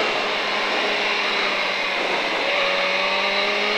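A 2005 KTM Superduke motorcycle accelerating on the Pau racetrack, a continuous loud engine drone with rising pitch as it pulls out of a corner, wind rush filling the background.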